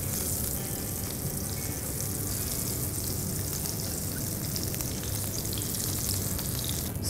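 Slices of brinjal frying in hot oil for begun bhaja, a loud, steady, dense sizzle crackling continuously and close up, with no talking.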